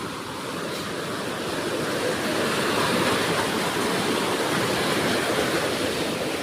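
Water rushes down a drain just cleared of built-up dirt and wood debris during the rains, a steady, close gurgling wash that swells slightly after the first seconds and then holds even.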